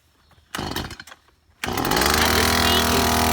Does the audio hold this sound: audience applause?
no